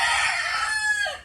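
A wet rooster crowing outside a house after a big storm and flooding in El Salvador, one long loud close cock-a-doodle-doo that trails off at the end.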